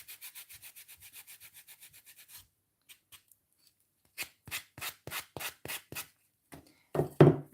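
Hand sanding of a coarse slate coaster: a quick run of short even rasping strokes, a pause with a couple of isolated scrapes, then a slower series of louder, longer strokes, close and dry.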